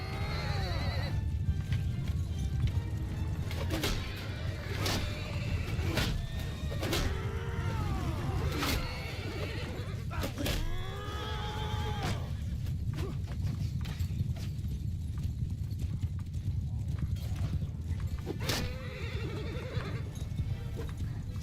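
Horses in a Mount & Blade II: Bannerlord battle whinny and neigh repeatedly over a dense, continuous din of hooves and combat noise, the calls rising above a steady rumble.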